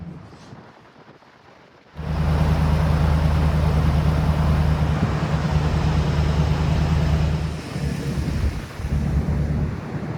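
A camper van rolls along a sandy beach, its engine and tyres making a loud, steady rumble with heavy wind buffeting, rising abruptly after a quiet start and easing slightly near the end.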